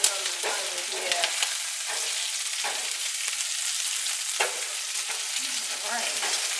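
Onions fry in a hot pan with a dense, continuous hiss and crackle, loud and close, with occasional pops and stirring scrapes.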